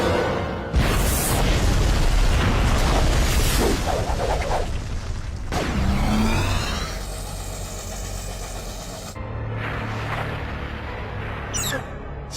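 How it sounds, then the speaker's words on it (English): A turbo-powered explosion from a Max Steel cartoon episode bursts in with a loud roaring boom, then rumbles and fades through whooshing debris and lower mechanical drones. "we've learned the megaton force of the turbo explosion"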